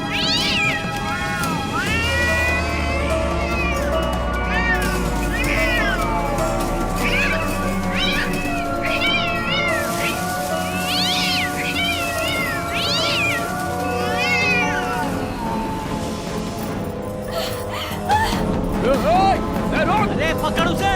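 A cat meows loudly and repeatedly, drawn-out wavering cries close by, with people talking in the background throughout.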